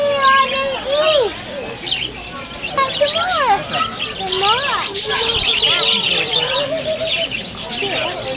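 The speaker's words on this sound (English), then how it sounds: "They share, birds." Birds chirp close by while being fed, with bright repeated calls mixed into the scene as a person and children talk excitedly over them.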